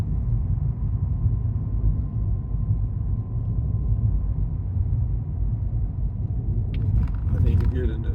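A car drives along a road near Tularosa, New Mexico, heard from inside as a steady low engine and road rumble throughout, with a brief clatter near the end.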